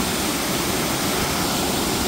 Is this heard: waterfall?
yes